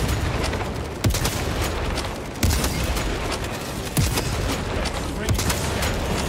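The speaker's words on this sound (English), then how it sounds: "Throwing fragmentation grenade!" A fragmentation grenade goes off in Space Marine 2 amid a chaotic firefight, with several heavy booming blasts spaced a second or so apart over continuous loud gunfire and battle noise.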